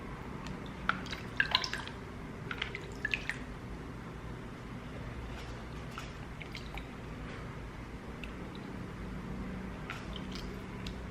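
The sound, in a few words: splashing water from a bowl onto face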